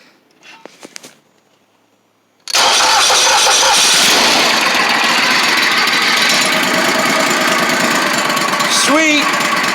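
A 2016 Kohler CH6720H engine on a small stump grinder starts on choke after some quiet handling noises, then runs loud and steady close by. A brief rising whine comes near the end.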